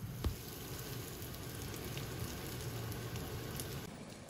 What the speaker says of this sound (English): Drop your shredded taters in.